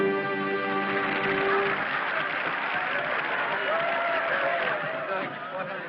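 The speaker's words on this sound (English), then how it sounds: "Hey, listen to them. They're still applauding." A theater audience applauds after a show in a 1932 film, a broad sustained wash of clapping and crowd noise with voices talking over it, thinning slightly toward the end.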